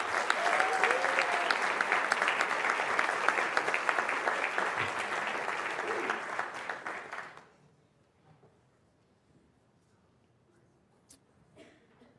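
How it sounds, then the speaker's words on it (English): Dense applause from a ceremony audience honoring a teacher, steady for several seconds before stopping abruptly into near silence with a few faint noises. "Let's give Ryan another round of applause."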